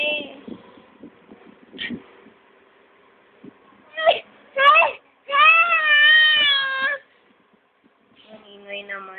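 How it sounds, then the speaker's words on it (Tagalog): An infant cries in several bursts, rising into a long wailing stretch, with quieter fussing and adult voices around it at close range. "Ang ingay naman ng baby."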